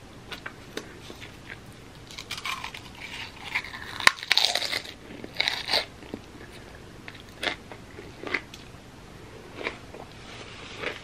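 Smoky-flavoured chips are bitten and chewed up close, a series of sharp crunches and crackling munches in irregular bursts, loudest near the middle, with no talk.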